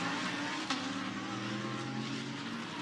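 A Lamborghini GT race car runs on track at Hockenheim during qualifying, its engine a steady, distant, droning hum with a brief sharp blip partway through, heard without talk.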